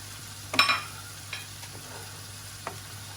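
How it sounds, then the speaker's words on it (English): A spoon stirs a handful of grated cheese into a sauce for oven-baked fish with broccoli: a few soft, separate scrapes and a light clink over a low, steady background hum. "there's about a handful of grated cheese that we pop into the sauce and mix that around"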